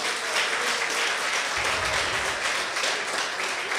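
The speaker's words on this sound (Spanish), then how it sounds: "Denle un aplauso al Señor por eso." Congregation applauding inside a church during a Spanish-language sermon, a steady dense wash of clapping from many hands that holds loud and even for a few seconds.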